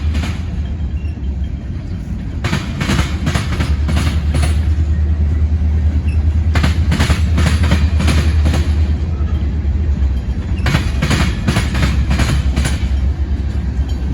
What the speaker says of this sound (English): Wonder if this will have a DPU because it's a really long train